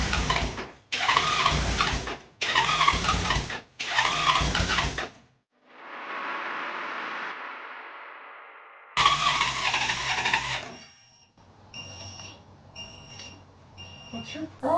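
A Ford Crown Victoria with freshly changed spark plugs cranks repeatedly off a jump pack, four close, loud bursts of starter churn separated by pauses, then a longer crank and a beeping alarm tone.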